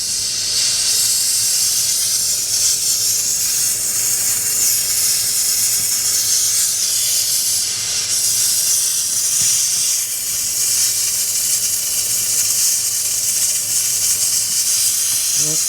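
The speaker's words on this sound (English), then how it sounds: "Turn the flame on." Steady, loud broadband hiss of a jeweler's torch flame melting 14kt yellow gold, a continuous roaring rush that holds nearly unchanged throughout with no talk.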